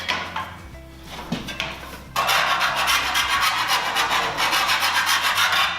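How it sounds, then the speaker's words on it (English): The cut edge of 4 mm cable tray is deburred with a rhythmic metal rasping, starting as a few soft strokes and then growing into loud, close, repeated scraping passes. "when we're happy that we've deburred it"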